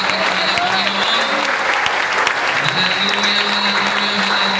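A church congregation claps loudly and steadily throughout a worship service at a choir anniversary gathering, with faint voices and tones mixed into the dense applause.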